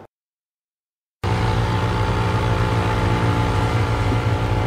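A boat's engine starts up after a moment of silence and then runs at a steady, close, loud drone with a constant low rumble.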